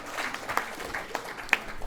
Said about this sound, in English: Let's give our scholarship recipients a round of applause.